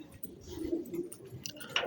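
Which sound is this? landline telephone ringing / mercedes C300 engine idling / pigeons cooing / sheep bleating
pigeons cooing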